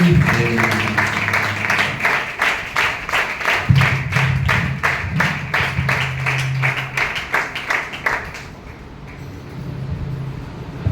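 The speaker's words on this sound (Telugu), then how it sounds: "అందరూ కూడా చప్పట్లు కొడుతూ" Congregation at a Telugu church service clapping together to honour Bishop Palaki Muthaiah, a dense run of rapid claps for about eight seconds that then fades out, with music playing underneath.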